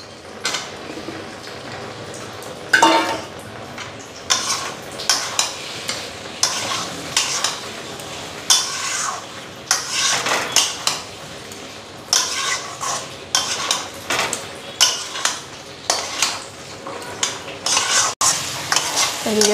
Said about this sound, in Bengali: ঝিঙ্গাগুলি দিয়া আর একটু ফ্রাই করে নিই